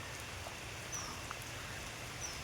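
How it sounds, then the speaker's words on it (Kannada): Rain pours in a steady, low hiss around a lotus lake in Coorg, faint and even with a few scattered drips, and no voices. "ಪುನಃ ಮಳೆ ಜೋರಾಗ್ತೈತೆ."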